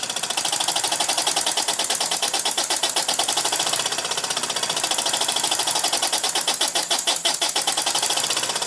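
Small engine with a flywheel and centrifugal governor running under load, a fast, even mechanical chatter of rapid beats that stays loud and steady throughout, with no talking.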